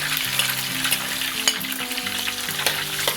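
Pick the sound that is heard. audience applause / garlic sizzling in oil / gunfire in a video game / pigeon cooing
garlic sizzling in oil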